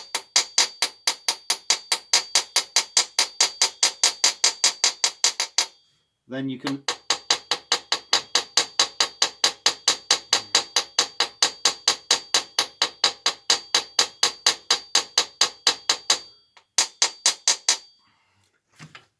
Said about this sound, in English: So what I do is get a small hammer, ball peen hammer,